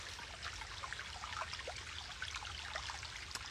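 Water flows steadily outdoors in a faint, continuous trickling stream, with small splashes and a low rumble of background noise, and no voices.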